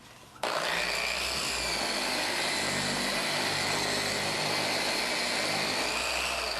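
A Porter Cable 7424 polisher switches on and runs at a steady speed setting, giving a continuous motor whir and buzz that keeps going without talk.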